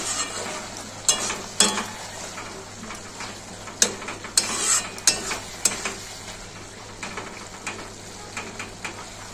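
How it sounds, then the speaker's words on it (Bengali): Aloo posto, potatoes in poppy seed paste with whole green chillies, being stirred in a pan: irregular scraping and clicking strokes of a spatula over a low sizzle, close by and with no talking. "দুটো গোটা কাঁচা লঙ্কা ওপর দিয়ে দেবো, নাড়িয়ে চাড়িয়ে নেবো।"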